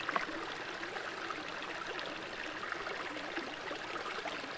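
Water streams steadily into a Sawyer Squeeze filter bag held in a slow-moving creek, a continuous soft gurgle and trickle at close range without talk.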